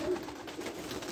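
Pigeons in a loft in Sulejówek, Poland, give soft, low cooing murmurs over a brief moment, close by and fairly quiet against light background noise.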